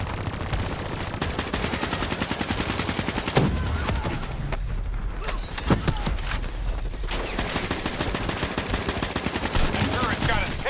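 A turret in a Call of Duty Black Ops III firefight lets loose loud, rapid, sustained automatic fire. Dense bursts are broken by occasional heavier booms, with faint voices under the shooting.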